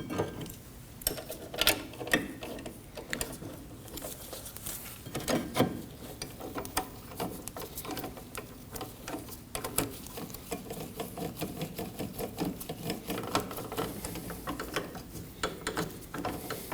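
A hand ratchet snugs the caliper bracket bolts on the rear wheel hub of a 2003-2006 Subaru Baja, giving quick repeated clicking strokes with light metallic handling noises, fairly quiet and close.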